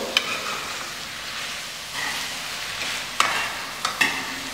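Vegetable fried rice being lifted and folded in a hot pan, with a steady sizzle and scraping stir strokes, plus a few sharp utensil clinks near the end; no talking.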